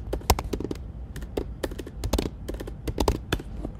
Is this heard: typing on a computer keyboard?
yes